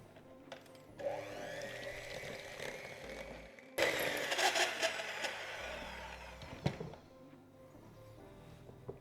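An electric hand mixer beats keto key lime pie filling in a bowl. Its whirring motor starts up, jumps to a louder, harsher whine partway through, then cuts out near the end.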